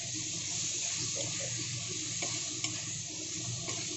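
Spices and chopped vegetables fry in a pan for an amudi fish curry, a soft continuous sizzle with faint scraping stirs, quiet and close, with no voices.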